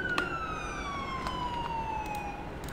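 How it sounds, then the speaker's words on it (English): A police siren from the video game GTA V wails in a single steady tone that slowly falls in pitch, loud and close over a constant hum of background noise, with no voices. "Can you get a siren check?"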